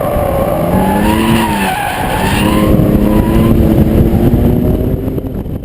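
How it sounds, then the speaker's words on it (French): A BMW M3 engine in Sport Plus mode revs hard as the car accelerates, with rising and falling harmonic engine tones, loud and close, and a steady roar continuing after a gear change. "en mode Sport Plus, l'accélérateur est beaucoup trop réactif, voire brutal"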